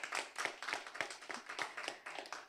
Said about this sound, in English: Please give Kanique a round of applause.